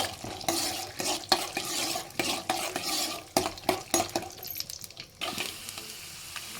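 Peanuts being stirred as they roast in a pan over a medium flame for homemade puliyogare powder, giving a steady run of close, dry scraping and rattling strokes with a faint sizzle beneath and no voices.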